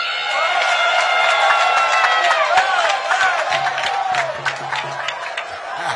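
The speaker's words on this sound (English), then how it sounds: "I'm happy to see that Togwe is clapping for me for getting his name right." A crowd at a Volta Region gathering with the President present, a burst of cheering, whooping and scattered clapping that stays loud and then slowly thins out.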